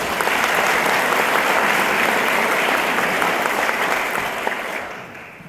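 An audience at a heritage farm celebration for the Krienke Farm in Perryton, Texas, gives sustained, thick applause for several seconds before it tapers off near the end.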